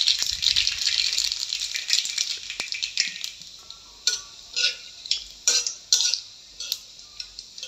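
Panch phoron spices dropped into hot white oil with chillies in a wok, fizzing and crackling loudly at first, then settling into separate sharp pops and sputters that come in short, irregular bursts.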